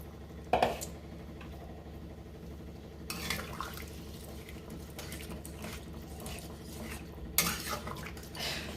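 Water poured into a pot of slow-cooking karai mutton, with metal pot and utensil clatter at the start, a rushing pour in the middle and another clank near the end, fairly quiet and close.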